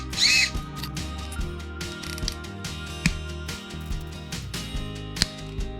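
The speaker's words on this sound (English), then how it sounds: "that's going forward, brake, backwards." Gear whir from the drivetrain of a Tamiya Wild Willy 2 WR-02 RC car as it runs forward, brakes, then reverses, a close mechanical whine with changing pitch and small clicks, no talking.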